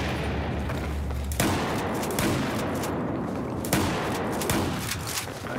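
Gunfire in a battle royale shooter game: a few heavy, booming shots with sharp onsets, each followed by a long rumbling decay over steady background noise.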